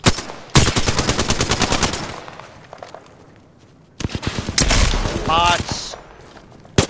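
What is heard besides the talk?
gunfire from the video game Apex Legends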